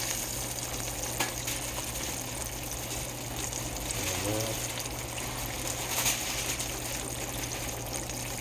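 Thick-cut pork chops frying in a pan, a steady sizzling hiss with faint crackles throughout, fairly quiet and constant.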